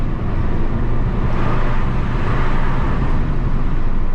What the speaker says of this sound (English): Hear that V10 power engine.